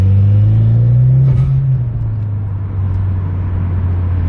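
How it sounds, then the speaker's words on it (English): A Mitsubishi Lancer Evolution X runs at low RPM with a loud, steady exhaust drone up close; pitch swells briefly then settles, with faint pops in the rumble. "It pops in low RPMs and in between shifts sometimes."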